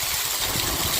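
An electric water pump motor runs steadily in a farm field, a constant loud broadband hum and hiss with no pauses, close by and alone.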